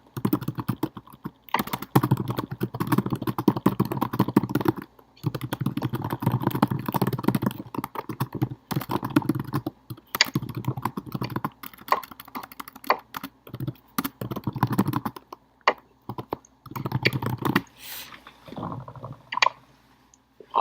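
Steady bursts of keyboard typing on a computer, close and fairly loud, continuing through with brief pauses and no talking.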